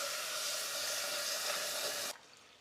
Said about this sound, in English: Now you wash your rice,